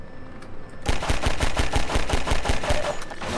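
Rapid automatic gunfire from Half-Life 2 fires about a dozen sharp, evenly spaced shots in a close, loud burst, after a brief quieter lead-in with no talking.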